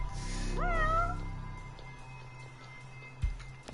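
A cat meows once, a clear rising-and-falling call in the near field, followed by quiet with a low background hum and a brief thump near the end.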